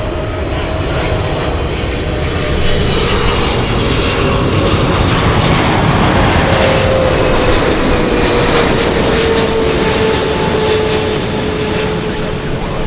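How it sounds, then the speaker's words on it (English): A Southwest Boeing 737 airliner rolls off runway 24 Right at LAX onto the high-speed taxiway, its jet engines giving a steady, loud whine and roar that holds for the whole stretch over broad airport rumble. "Southwest exiting the runway, taking the high speed taxiway out of 24 right"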